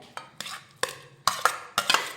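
A spoon mixes thick mashed chickpeas and potato in a pressure cooker over low heat, giving five or six sharp metallic knocks and scrapes against the pot at irregular intervals, with soft mushy stirring between them.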